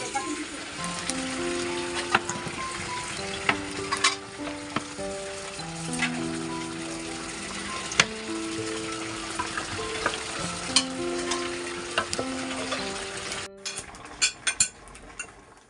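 Meat sizzles and fries in a pot for an Eid ul-Adha meal in a village home, with a steady hiss broken by metal spoon scrapes and clanks as it is stirred; voices talk in the background.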